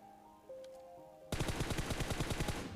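Rapid automatic gunfire in the mobile battle royale game PUBG Mobile, a fast steady string of loud shots from a rifle aimed at a distant target, starting abruptly after a quiet moment.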